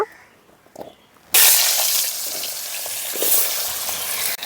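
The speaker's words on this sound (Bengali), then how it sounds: "এখন মাছ ভাজা তেলের মধ্যে দিয়ে আলুগুলো ভেজে নেব" Cut potatoes drop into oil left over from frying fish and burst into a loud, close, continuous sizzle after a quiet start, with faint stirring clinks beneath.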